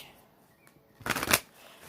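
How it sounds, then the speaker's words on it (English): A single quick riffle of a deck of cards, a crisp burst of papery flutter lasting about half a second after near silence. "I'll do one more shuffle."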